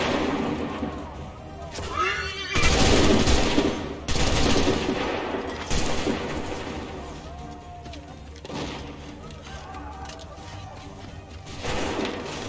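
Musket volley fire in the Assassin's Creed III video game, loud ragged bursts of massed shots with heavy booms, repeating every few seconds amid battlefield clamor, with voices shouting between the volleys.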